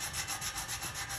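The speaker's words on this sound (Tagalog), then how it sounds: "Tapos lagyan natin ng liha para ma-smooth naman yung surface." Steady back-and-forth rasping of sandpaper smoothing a hammered bronze sculpture, rhythmic strokes repeating about five times a second, close and fairly quiet.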